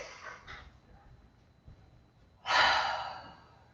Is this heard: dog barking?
no